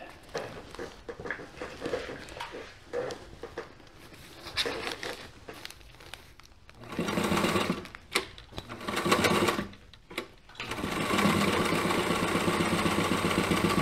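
Sewing machine stitching a new convertible top for a 1987 VW MK1 Cabriolet, running in bursts of steady mechanical whirring that start and stop, then a long continuous run near the end, loud and close with no talk.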